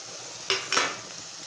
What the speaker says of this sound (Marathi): आता आपण या सोयाबीनच्या वड्या याच्यात टाकून घेऊ।